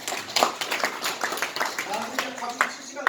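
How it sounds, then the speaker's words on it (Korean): An audience claps at a seminar in Jeonju after a guest introduction, scattered hand claps of moderate loudness heard under and between a man's ongoing speech. "박수님 박수 주세요."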